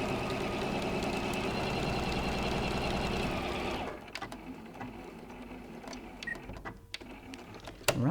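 A domestic sewing machine runs steadily and close up while stitching a seam on a messenger bag. It stops after about four seconds, and soft handling clicks and rustles follow.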